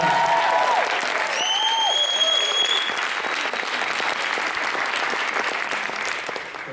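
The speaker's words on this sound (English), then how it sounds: "Can we just give all the young poets a massive round of applause?" Sustained applause from a live audience at a young poets' poetry event in a Birmingham library, steady and dense throughout, with a few faint high whistling tones near the start.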